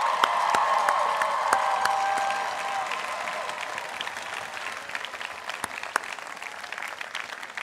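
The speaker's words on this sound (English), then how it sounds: "let's give your family, friends, and loved ones a great round of applause." An audience at the College of Charleston 2018 commencement ceremony breaks into sustained applause, dense and loud at first, then thinning into scattered claps, with faint crowd murmur.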